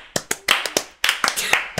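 A slow pity clap during a casual game session: roughly a dozen separate hand claps at an uneven, unhurried pace, fairly close and clear, with light talk faintly underneath.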